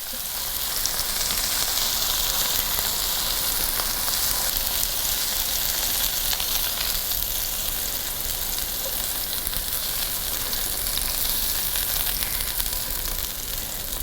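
Garlic sizzles in a very hot pan with a dense, steady crackling hiss that holds constant and close throughout, and no voices over it.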